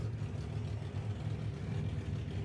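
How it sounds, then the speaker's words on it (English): A 1970 Plymouth Superbird funny car's drag racing engine running at a test session, a loud, steady low rumble with a harsh rough edge throughout, close by and with no talk. "All right, Funny Car's fired up."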